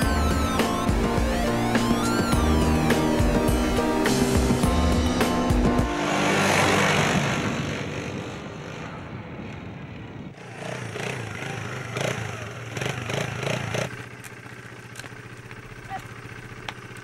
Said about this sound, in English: The neighbors have a quad bike. It's a funny sort of motorbike with four wheels, and they let me drive it.